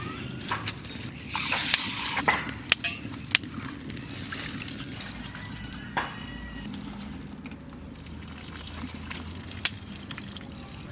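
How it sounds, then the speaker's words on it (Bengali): Water pours into a wok set over a lit village clay stove, a soft splashing gurgle under outdoor ambience with scattered clicks and knocks and distant birds. "কড়াইটা চাপালাম, জল দিয়ে দিচ্ছি।"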